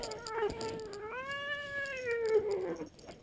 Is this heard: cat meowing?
yes